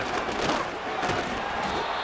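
A roaring stadium crowd fills the space in the Madden NFL 25 football video game, a dense, loud and steady wash of cheering and yelling with no talking over it.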